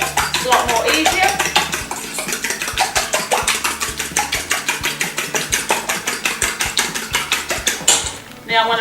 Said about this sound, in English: Give that a little bit of a whisk. I'm using a fork, it's a lot more easier.